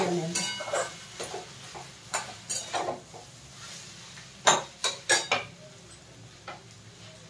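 Grated potato filling for a sandwich being stirred in a wok, with repeated sharp scrapes and clinks of a metal spoon against the pan over a faint sizzle, some louder knocks bunched toward the end.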